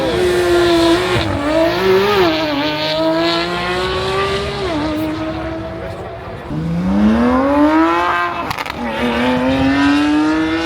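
A high-revving supercar engine screams loudly as it accelerates down a runway straight at a supercar festival, shifting up through the gears, the pitch climbing, dropping, and climbing again.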